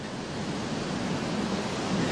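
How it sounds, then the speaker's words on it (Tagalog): Steady broadband surf and crashing waves at a shore on a typhoon-battered coast that had swells up to 15 feet, a continuous wash of moderately loud water with no voices. "Ang dagat na kinatatakutan kagabi dahil sa mga along umabot sa 15 talampakan ng taas"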